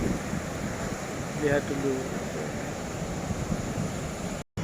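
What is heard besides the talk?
big ocean waves and wind on a beach in rain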